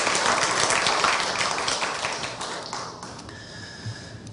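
Applause from a university chapel audience thanking the choir and orchestra students, a broad wash of clapping that thins and fades toward the end.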